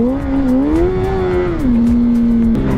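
A car drifting with a sustained, loud tire squeal whose pitch wavers and then settles, while the engine hums underneath. Some engine noise is present, and there is no speech.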